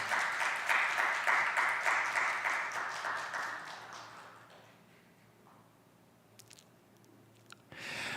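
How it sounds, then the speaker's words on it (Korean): Church congregation applauds to welcome the drummer forward, steady clapping for about four seconds that fades away, leaving a quiet room with faint scattered noises. "우리 박수로 모시겠습니다"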